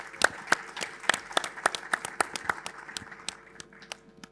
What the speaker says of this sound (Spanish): le damos un aplauso cariñoso